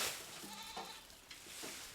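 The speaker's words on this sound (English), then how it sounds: "Keeping their goats in pens and feeding them with fodder" Goats kept in pens in rural China bleat in a few short wavering calls, moderately close against a steady outdoor background.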